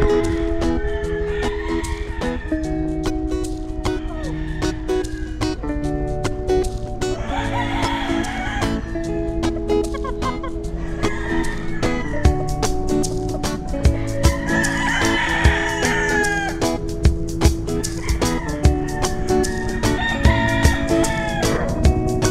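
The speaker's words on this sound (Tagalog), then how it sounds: "Maganda dito pahingahan ng mga manok talaga." A large crowd of chickens and gamefowl roosters at a rooster farm crows and clucks nonstop, with overlapping calls near and far over a dense, loud bed of constant poultry noise.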